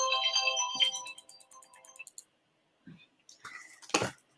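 A mobile phone ringtone for an incoming call plays a bright repeating melody for about two seconds and then stops, followed by a few soft clicks and brief handling noises.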